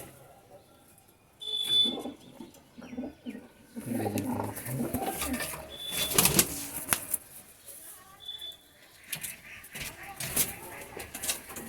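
Punjabi pigeons coo softly in a loft, with occasional bursts of wing flapping and brief chirps, while voices talk close by.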